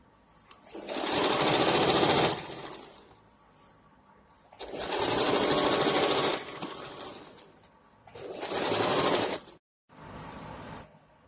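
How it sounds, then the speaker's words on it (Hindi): A sewing machine stitches a pant seam near the zip side, running in three long bursts separated by short pauses, close and steady with a mechanical whir. "अब हम इसको ऐसे इस सिलाई को कवर करते हुए सिलाई लगाएंगे।"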